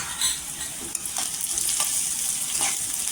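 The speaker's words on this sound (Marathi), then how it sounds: "हे आहे ना छान असं परतून घ्यायचं तेलावर." Ginger, garlic and green chili paste sautéing in oil for a potato dish: a steady close sizzle and hiss of frying, with a few scraping stirs of a spoon in the pan.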